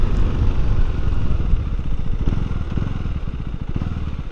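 A 2024 KTM Duke 390 single-cylinder motorcycle thrums with a loud, close exhaust note, a steady low pulsing beat that holds throughout without any talking.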